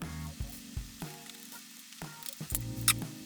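Family Mart tantanmen instant ramen noodles being stirred and mixed in a bowl, giving a run of soft wet squelching and scraping strokes at a steady irregular rhythm, close and fairly quiet with no talk.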